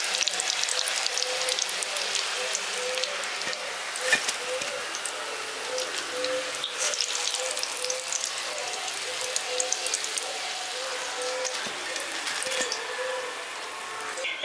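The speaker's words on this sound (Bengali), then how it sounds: "আর বাকি যেগুলো আছে সেগুলোও ভেজে নিচ্ছি" Village-style vegetable chops deep-frying in oil: a continuous bubbling crackle at moderate distance, with faint chirps and small clicks in the background.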